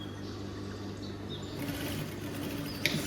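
A sewing machine stitches a shirt cuff along the shadow line, giving a soft, even, continuous mechanical hum that lifts slightly partway through, with a brief click near the end.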